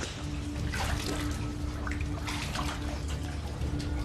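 An underground river runs through a dark mountain cave, its water flowing and trickling in a steady, moderately faint wash with a low continuous hum underneath and no talking.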